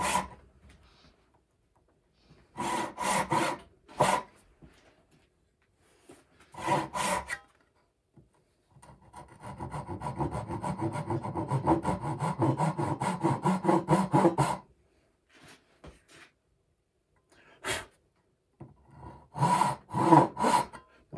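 Hand saw cuts wood for a Japanese rising sun dovetail joint in a leg vise, bursts of rasping strokes separated by pauses, then a long steady run of back-and-forth sawing, close and alone without talk.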